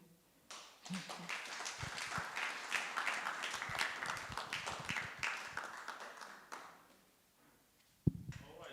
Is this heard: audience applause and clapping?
yes